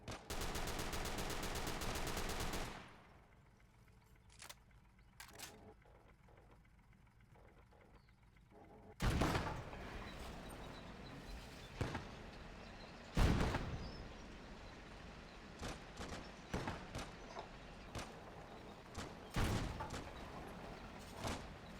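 Machine gun fire in the game Call to Arms: a loud, sustained rattling burst opens, then quieter scattered shots and sharp bangs follow at irregular intervals.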